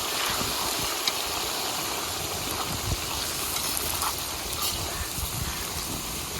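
Finely chopped tomatoes cooking with golden fried onions in a pan for dhaba-style Pindi chhole, giving a steady, moderate sizzle and hiss that continues without a break and without speech.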